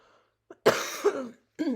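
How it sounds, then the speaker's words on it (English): A single harsh cough up close, followed by a brief throaty rasp, in an otherwise quiet setting. "I'm about to cough."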